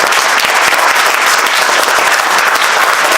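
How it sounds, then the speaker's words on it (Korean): Dense, steady applause from an audience thanking the lecturer at a church's sexual harassment and violence prevention training, loud and continuous for about three seconds. "마지막으로 박수로 큰 박수로"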